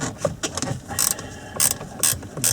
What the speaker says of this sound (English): put in a Torx 30 bit, like so, and get a size 10 ratchet spanner